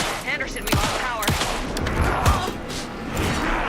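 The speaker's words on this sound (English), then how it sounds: "Anderson, pin him down with gunfire for me to get the light on" Rapid bursts of gunfire in the video game Alan Wake 2, several sharp shots in quick succession with a loud, continuous crackle of combat sound across the whole stretch.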